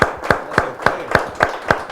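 An audience claps for a guest in steady, evenly spaced claps, about three or four per second, close and crisp, with no talking over them.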